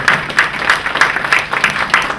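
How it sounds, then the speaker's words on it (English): Audience applause at a business economic summit's opening remarks, dense steady clapping from a crowd, loud and sustained throughout. "So please give them a round of applause"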